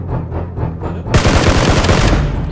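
Loud, close gunfire in the video game PUBG: a rapid automatic burst that rattles in quick succession after a short stretch of quieter background, then thins out.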